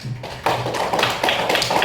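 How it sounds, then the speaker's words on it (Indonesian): A classroom of children claps their hands in a quick burst of sharp, irregular taps, loud and close, with no talking over it. "Tepuk tangan dulu."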